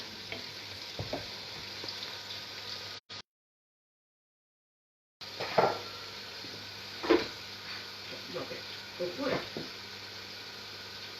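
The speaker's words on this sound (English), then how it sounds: "So you've got the onions cooking" Onions frying and browning in a pan for butter chicken, a continuous close sizzle with stirring scrapes and clatters, briefly cut to silence partway, with someone talking over it at times.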